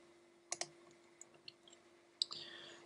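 Computer mouse clicks while setting up SketchUp software, a sharp close double click, then a few faint taps and another crisp click, alone in a quiet room.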